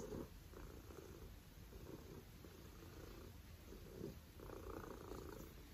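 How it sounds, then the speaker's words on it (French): A cat purrs loudly and steadily, very close, a continuous rumbling throb with regular breathing cycles and no voices. "Oh, ça ronronne fort."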